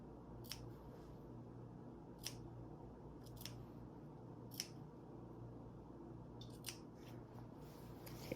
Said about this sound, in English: I'm going to snip that a little bit because I don't want that to pucker like that